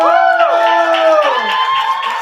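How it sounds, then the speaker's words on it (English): An open mic audience cheers and whoops for the next performer, with several loud, high voices shouting and whooping together as one sustained, close burst of crowd noise. "Make noise for the homie Sabrina."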